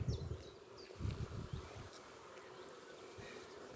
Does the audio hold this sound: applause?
no